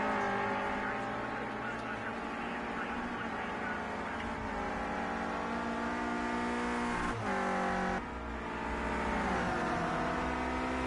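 Clio Cup race cars roar steadily along the track, engines loud and close with a brief dip and gear change as two run side by side, a commentator talking over them.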